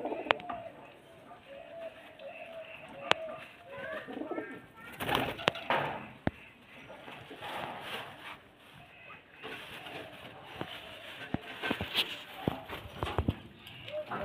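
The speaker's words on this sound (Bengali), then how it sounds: "দেখুন দারুণ কোয়ালিটি পায়রা" Gribas Teddy pigeons coo softly in a loft, with scattered faint calls, occasional flutters and clattering knocks around them, and a person speaking intermittently nearby.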